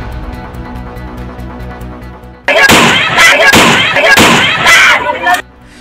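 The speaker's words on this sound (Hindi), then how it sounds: "मुरैना की धरती एक बार फिर गोलियों की तड़तड़ाहट से गूंज उठी।" Gunfire in Morena during a land dispute in which six people were killed: from about 2.5 s, loud dense bursts of shots rattle in quick succession for roughly three seconds, following a quieter lead-in with a steady tonal hum.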